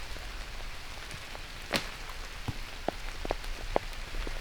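Heavy rain pours steadily across an outdoor disc golf course, a dense continuous hiss with scattered louder drops and splats landing close by, and no voices.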